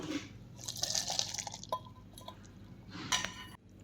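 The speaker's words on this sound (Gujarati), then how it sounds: "હવે આપણે એક ચાયણામાં પાસ્તાને કાઢી લેવાના છે" Boiled pasta drained through a colander, with splashing, dripping water in two bursts, a longer pour at the start and a short one near the end, close and fairly soft, with no voices.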